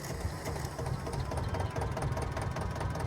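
Tractor engine running in the Farming Simulator 22 video game, a steady, dense low rumble with a faint knocking pulse that holds unbroken at an even level for the whole stretch, with no talking.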